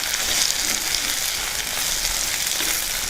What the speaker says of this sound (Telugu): ఇప్పుడు ఎండుమిర్చి కూడా వేసుకుందాం. మొత్తం బాగా కలుపుకుందాం.